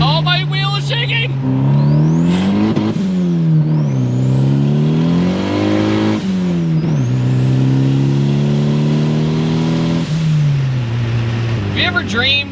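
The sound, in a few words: turbocharged Honda Accord accelerating hard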